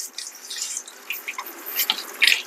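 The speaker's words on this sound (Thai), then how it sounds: "น้ำไหลแรงครับ แสดงว่าเป็นกระอกตัวนี้นะครับ" Water runs from a water filter faucet being repaired, a steady hissing flow with splashy bursts that grow louder toward the end, heard alone without talk.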